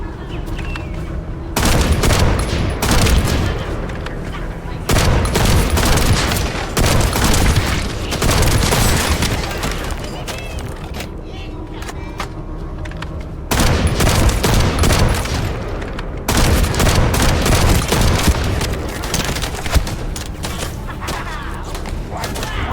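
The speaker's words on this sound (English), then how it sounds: "That stopped the gunfire." Heavy gunfire in the shooter game The First Descendant, with loud, dense bursts of rapid shots and booming impacts that come in long waves separated by brief lulls.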